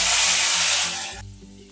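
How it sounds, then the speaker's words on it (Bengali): Ginger-garlic paste and turmeric hitting hot oil after radish and potato were fried: a loud, close hiss and sizzle that fades, then cuts off abruptly, leaving a low hum. "আদা রসুনটাকে ভালোভাবে ভেজে নেব।"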